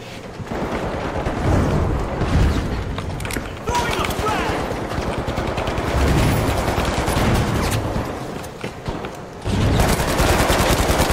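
Bursts of rapid gunfire and explosive fusillades in the video game The Finals, loud and continuous with brief lulls, mixed with game noise and a wind-like rush.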